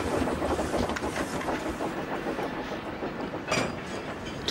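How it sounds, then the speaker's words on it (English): A train runs along rails with a continuous, steady rumble and rhythmic clickety-clack, close and fairly loud, with no voices. "this is the time Thomas on his special coach train"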